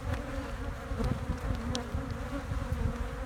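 Steady, close buzzing of many honey bees on a starter frame for a queen castle, a continuous low drone with no voices.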